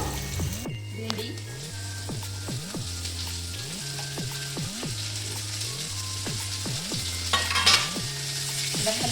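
Okra bhaji sizzles quietly in a pan while a spatula stirs it in steady, repeated scraping strokes. A soft, continuous frying hiss runs underneath, with a faint background tone.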